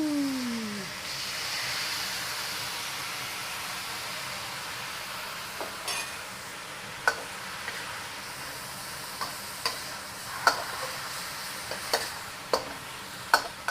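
Pork lo mein with cabbage, garlic, ginger and sauce stir-fried in a pan, a constant sizzle under a string of sharp spatula scrapes and taps that grow more frequent toward the end.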